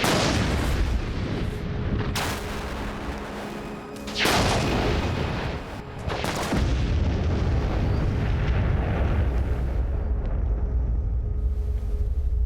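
A massive ammonium nitrate fuel oil explosion roars out, followed by long rumbling booms and a sustained, heavy low roar that keeps going after the blasts.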